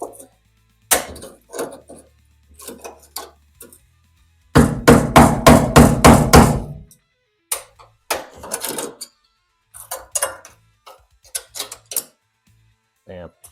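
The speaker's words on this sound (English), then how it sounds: "Need to get enough space to be able to hammer this in, and that way you can break the" Steel tool hammered in to break a spot weld loose on a Volkswagen during restoration: a fast burst of about ten sharp metallic blows, with scattered knocks and someone talking before and after.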